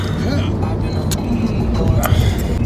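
Riding inside a car in Porto, Portugal: a steady low engine and road rumble fills the cabin throughout, with a couple of faint higher clicks or knocks over the drone.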